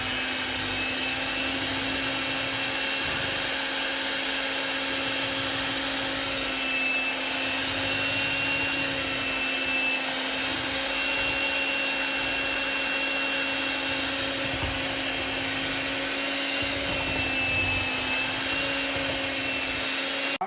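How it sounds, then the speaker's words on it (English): An electric mixer whirs continuously at a steady pitch while blending tea cake batter in a home kitchen, the motor drone holding level and uninterrupted throughout. "Let me start my mixer up."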